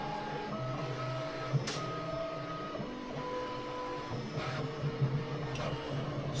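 A Bambu Lab P1S 3D printer runs steadily nearby, its stepper motors whining in shifting tones, with a fan hum and occasional sharp clicks and ticks from the moving print head.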